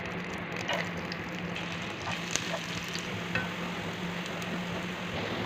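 Lots of garlic frying in a pan for mushroom-free pesto pasta, a steady, close sizzle with faint crackles and light stirring, no voices.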